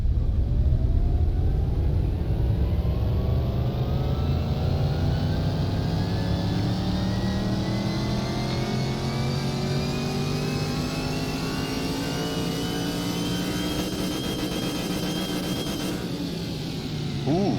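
Simulated car engine in Car Mechanic Simulator 2021 revving steadily through a dyno run, its pitch climbing continuously over about seventeen seconds, loud and sustained with no talking.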